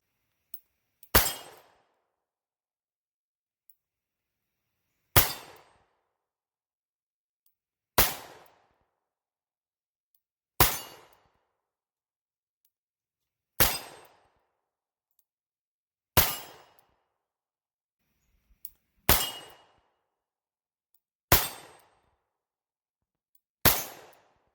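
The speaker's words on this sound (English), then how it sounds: "let's do another 12 rounds of 357 Magnum." A .357 Magnum revolver fires a string of single loud shots, each a sharp crack with a short decaying tail, spaced roughly two to three seconds apart with silence between and no talking.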